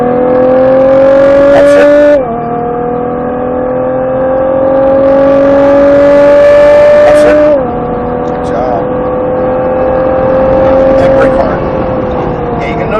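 A Nissan Skyline GTR engine on a track at Speed Vegas revs loud and close, rising steadily in pitch, then dropping sharply with each shift before climbing again across the run.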